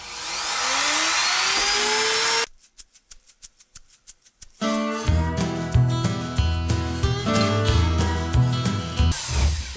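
A rotary power carving tool grinds into wood on an eagle carving, a loud high whine at first, then rapid ticking, then rough buzzing grinding in small repeated circles, heard up close with no talk.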